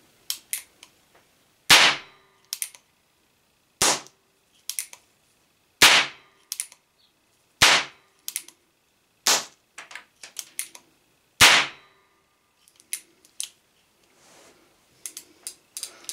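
Homemade percussion caps using match-head ignition, sealed with Duco cement thinned with acetone, fire as sharp, loud, close cracks; about seven main shots come at roughly two-second intervals, followed by quieter clicks and small pops.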